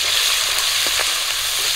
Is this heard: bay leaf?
yes